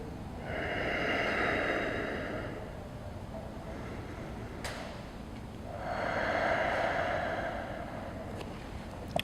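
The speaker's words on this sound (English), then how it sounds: "Okay, and I just breathe here." Slow, deep breaths taken while setting up for a deadlift, two long drawn-out breaths that rise and fade, close and fairly quiet, with no talking.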